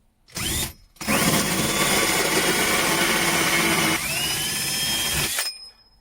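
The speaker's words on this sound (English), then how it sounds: "I want to drill out a cylindrical block with my hole saw." A power drill with a hole saw bites into wood, whining and grinding loudly for several seconds after a brief first burst, then spinning down.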